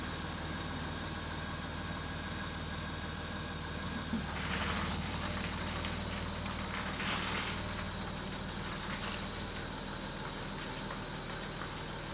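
Land Rover Discovery 3 engine running at a steady idle, a constant low rumble with no talk. A short burst of brighter mechanical noise is heard mid-way, most likely from the air suspension compressor.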